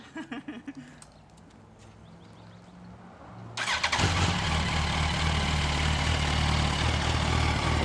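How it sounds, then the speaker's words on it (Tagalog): A sportbike engine with stock exhaust cranks briefly, then fires and catches at about the midpoint, settling into a loud, steady inline-four rumble up close. "Naka-stock exhaust pa rin siya pero astig naman ang tunog eh. Traditional inline 4"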